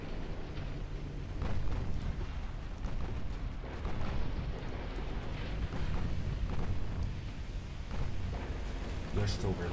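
Naval gunfire and explosions during a ship battle in the game Ultimate Admiral Dreadnoughts, a dense, continuous roar of booming shots and blasts with talk over it.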